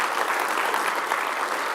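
Dense, steady audience applause fills a conference hall at an AI engineering event honouring its gold and silver sponsors, a broad wash of many hands clapping at close range without any voice on top.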